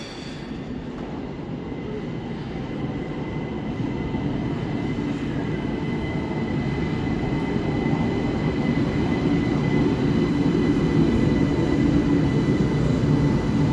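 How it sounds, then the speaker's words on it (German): An ÖBB Cityjet Talent REX1 train rolls into a station platform, a steady loud rumble of wheels and motor that builds gradually and holds, with a faint high whine above it. "Rex 1 nach Bad Floridsdorf fährt ein."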